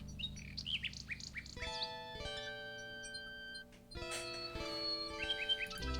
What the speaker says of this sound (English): A nightingale perches on a high branch of the tree. She sings the most beautiful song Alexander has ever heard.